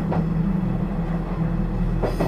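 A train runs on rails, heard as a steady loud rumble from inside a carriage with a couple of faint rhythmic wheel clacks, used as an eerie horror-story sound effect.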